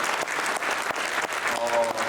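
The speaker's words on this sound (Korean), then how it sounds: "우리 박재신 목사님께 다시 한번 감사의 박수 드립니다" Congregation applauding a pastor after an early-morning church service, steady dense clapping filling the room throughout, with a voice briefly audible near the end.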